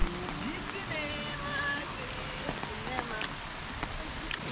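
Light rain falling in Hope Park, Keswick, a soft patter of drops on the ground and foliage with people talking over it.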